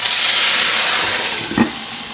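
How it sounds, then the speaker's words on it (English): Broth hits a hot pan of pot stickers with a loud burst of hissing steam and sizzle that gradually fades, with a brief clatter near the end as the pan is covered. "take about 1/3 cup of broth, quickly pour it into the pan, cover it"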